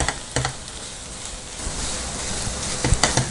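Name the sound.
bread burfi with sugar being stirred in a pan on low flame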